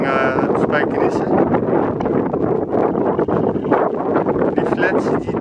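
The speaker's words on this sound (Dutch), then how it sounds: "Ik kan niet goed stilhouden, want het waait heel erg hard." Strong wind batters the microphone outdoors near a metro station, a loud, constant buffeting roar with gusty surges, while a person talks underneath.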